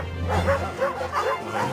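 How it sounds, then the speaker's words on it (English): Several cartoon dogs in an animated series bark and yip in rapid, overlapping bursts, close and fairly loud, with whimpering mixed in. "Call off these dogs, would you?"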